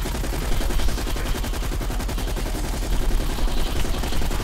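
Rapid gunfire from Call of Duty Black Ops Cold War during a zombies round, a steady dense stream of automatic shots running the whole time at a loud, even level.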